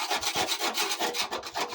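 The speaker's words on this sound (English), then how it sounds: "We're scraping off the roughest bits of the paint." A scraper rubbing rough, badly rusted paint off the wing of an old Ford Fiesta, giving a loud, close, rhythmic back-and-forth rasp of about a dozen quick strokes, heard alone.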